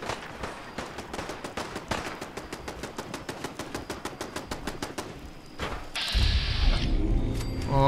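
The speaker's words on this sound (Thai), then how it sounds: "ใครยิงกัน" Gunfire in the video game Fallout 4 Far Harbor: a rapid, rhythmic automatic burst of crisp shots lasting several seconds, followed by a louder, noisier rushing sound.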